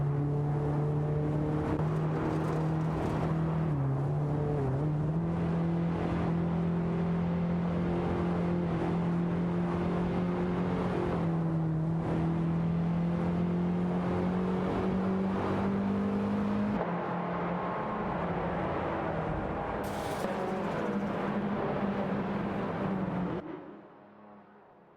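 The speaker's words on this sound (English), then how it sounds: "the AI cars are ready to zoom past" AI-driven race cars in a racing video game roar along with a sustained, steady engine drone, the pitch rising and dipping as they accelerate, with a brief whoosh near the end before the sound cuts away; no talking.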